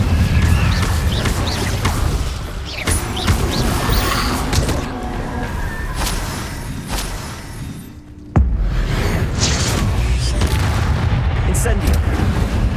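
Incendio fire spell cast in Hogwarts Legacy on PS5: repeated booming, crackling bursts of magic run throughout over dense game noise, with one sharp, loud hit near the end and voices mixed in.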